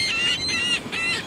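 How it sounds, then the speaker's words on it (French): Seagulls calling at a beach at sunrise, three nasal, honking cries in quick succession, fairly close and clear, with no talk. "Il y a des mouettes partout."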